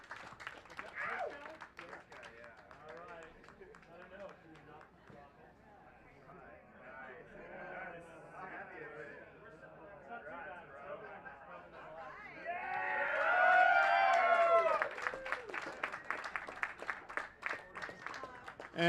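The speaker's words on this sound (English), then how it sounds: "So let's give them a round of applause for the Jim Petrie Award." Scattered clapping from an audience at the Race Across America 2023 finish line builds into fuller applause near the end, heard under and after a voice speaking over a sound system.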